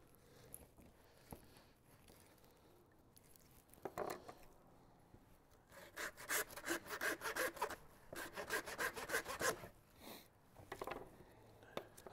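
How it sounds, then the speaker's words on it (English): A handsaw cuts a bone-in pork chop through the rib bone during a whole-pig breakdown, making close, rhythmic rasping strokes that quicken into a dense burst before trailing off. "when you do a bone-in chop with a handsaw"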